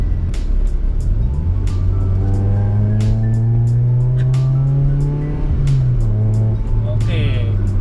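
A Toyota Corolla AE112 engine revs up from inside the cabin, its pitch climbing steadily, dipping briefly, then rising again, loud and close with clicks and faint talk.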